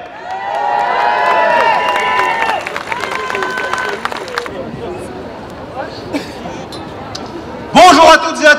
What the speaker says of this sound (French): je vous prie de faire un tonnerre d'applaudissements à Charmel